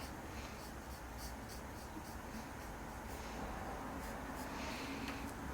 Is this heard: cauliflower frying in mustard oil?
no